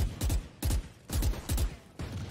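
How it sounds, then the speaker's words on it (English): Rapid bursts of rifle fire from a competitive Valorant match ring out in four or five quick, close volleys, each a tight cluster of sharp shots separated by brief pauses. "Bullets being traded"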